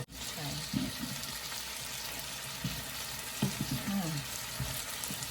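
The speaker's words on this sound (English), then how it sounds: "Broccoli stem stir fry." Broccoli stems stir-fry in a new wok, a steady close sizzle with scraping stirs and brief clinks of the spatula, under a low voice.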